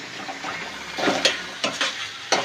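Spinach and vegetables fry in a pan with a soft sizzle, broken by a few sharp spatula strokes in quick succession.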